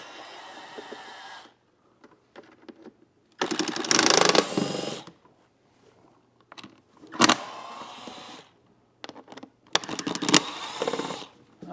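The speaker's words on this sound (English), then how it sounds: "we're going to use a T25 Torx, and we're going to remove these screws" A T25 Torx driver whirs in several loud, close bursts of a few seconds each, with quiet gaps between, as screws come out of a Mercedes W221 S550.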